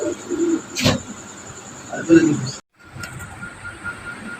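Running Danish pigeons, a hen carrying eggs among them, coo in low soft bursts at a pigeon sale, with a sharp tap and a person speaking alongside.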